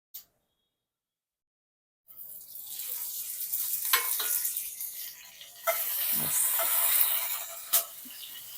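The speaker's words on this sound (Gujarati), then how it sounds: "આપણે જીરું નાખીશું. જીરું તતડે એટલે આપણે મરચાં અને લીમડો નાખીશું." Cumin seeds hit hot oil in a pan while cooking a Gujarati sabudana potato khichdi, giving a sudden steady sizzling hiss with a few sharper pops and crackles, loud and close after a brief silence.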